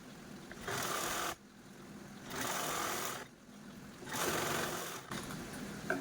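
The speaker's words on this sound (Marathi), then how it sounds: "आपण या कडेची जी साईड आहे ती स्टिच करून घेतलेली आहे" A sewing machine stitches along the side of a fridge cover in three separate bursts of steady whirring, close and fairly quiet, with short pauses of near silence between the runs.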